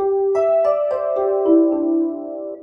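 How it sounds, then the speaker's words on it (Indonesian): Synthesized bell tones from a Korg Krome EX keyboard play a short descending melody, each note ringing on with a soft sustained tail, clear and alone. "Suara bell."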